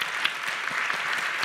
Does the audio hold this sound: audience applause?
yes